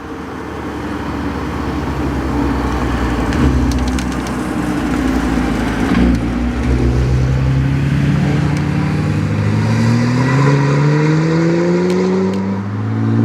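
Nissan GTR accelerating on the Curborough sprint course, a loud engine note climbing through rising gear sweeps and shifts, passing close with crackling exhaust.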